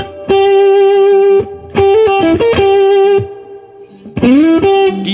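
Electric guitar with a light overdrive plays a blues lick in G over a 12-bar form, with sustained single notes, bends and short phrases separated by brief gaps. No voices are heard.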